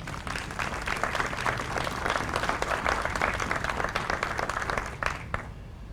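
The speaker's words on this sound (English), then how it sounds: "Please give them a round of applause." A ceremony audience at a veterans appreciation event applauds steadily, dense overlapping claps filling the room at an even, sustained loudness before thinning slightly at the very end.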